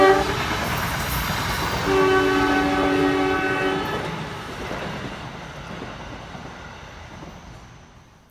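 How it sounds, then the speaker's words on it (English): A Westinghouse AA2 horn on an Arrow III electric multiple unit train in the Train Sim World 2 game sounds a loud chord for about two seconds over the rumble of the rolling train, which slowly fades afterward. "The Aero 3 uses a Westinghouse AA2 horn"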